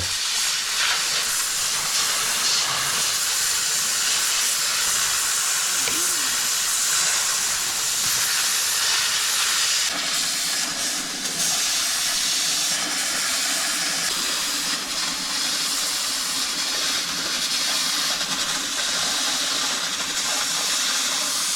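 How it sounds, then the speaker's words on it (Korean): A long, continuous hiss of steam fills a room as hot water is run under a frozen toilet to thaw it, loud and steady with slight shifts in tone, no talking. "수증기가 꽉 찼고요 변기가 얼어가지고 지금 변기를 녹으려고"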